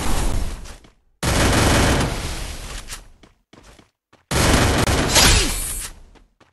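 Gunfire in a mobile shooting video game comes as long, loud, dense bursts of rapid shots, separated by short silent gaps.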